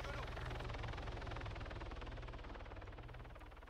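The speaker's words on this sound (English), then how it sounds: "helicopter, helicopter coming helicopter" In the ArmA 3 video game, a Pawnee helicopter sends out a loud, steady rotor chop in a fast, regular thumping beat that eases slightly toward the end.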